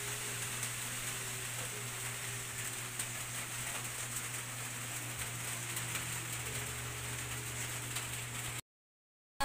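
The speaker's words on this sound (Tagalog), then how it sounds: "Lumalakas po yung ulan" Heavy rain falls on farm fields in cold, stormy, windy weather, a steady close hiss that holds without a break before stopping abruptly near the end.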